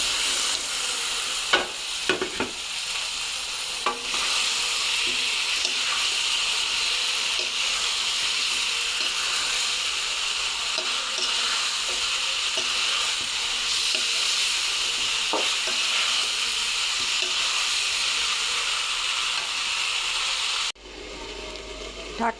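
Fried cauliflower pieces sizzle loudly in a pan of cooked-down spice masala for a fish curry, a steady broad hiss with occasional stirring clicks, cutting off abruptly near the end.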